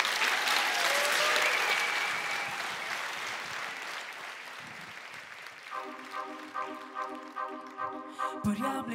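Warm applause from a gala audience greets a singer, a dense roar of clapping that slowly thins, then a sustained musical tone pattern enters over the fading claps.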